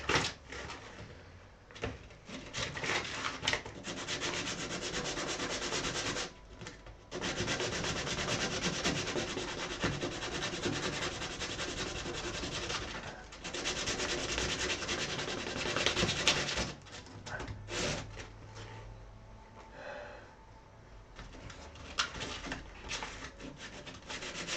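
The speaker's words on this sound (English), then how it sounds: "Let's sand that guy." A wooden guitar part is sanded by hand in a workshop, with long rasping back-and-forth strokes that run steadily and then break off in short pauses, close and fairly quiet, with no one talking.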